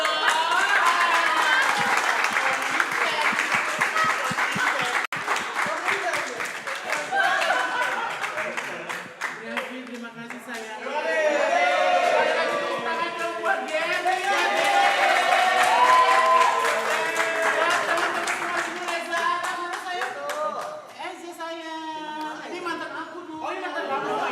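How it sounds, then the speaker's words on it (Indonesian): Clapping and cheering fill a birthday party with a hired singer, rising and falling for over twenty seconds while guests chatter and laugh loudly throughout. "Tepuk tangan dulu."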